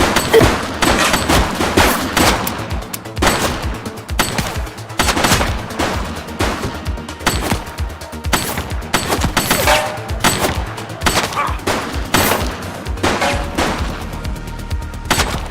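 Gunfire in the video game The Precinct: rapid, loud bursts of automatic shots and single cracks hammer on in an uneven rhythm for the whole stretch, with no pause.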